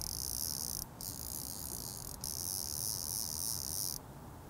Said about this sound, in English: Redington's also built a pretty nice sound into this Rise.